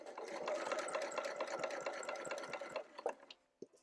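A sewing machine stitches binding onto a quilt with a fast, even run of needle clatter, close and moderately loud, then slows and stops at a corner, leaving a few isolated clicks and taps.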